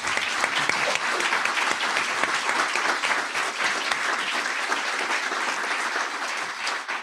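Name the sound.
audience applauding the forum candidates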